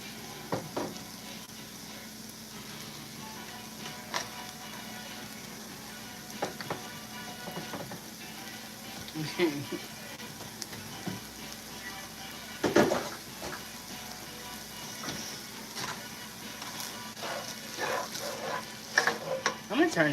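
Hamburger meat fries in a pan with a steady close sizzle while a spoon scrapes and stirs it, giving repeated clinks and scuffs against the pan.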